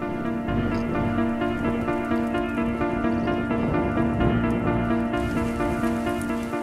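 Rain falls in a home garden in spring, a steady dense patter of drops on surfaces, continuous and close, with a sustained tonal hum running underneath.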